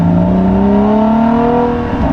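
Porsche 981 Cayman S flat-six revving hard, a loud close engine note climbing steadily in pitch as it builds, with no talk over it.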